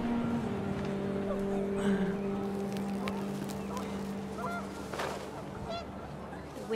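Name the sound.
panicked geese honking in video game What Remains of Edith Finch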